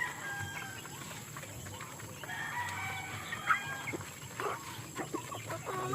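Hens cluck and murmur in short bursts at a moderate distance, with an occasional louder squawk over a quiet outdoor background.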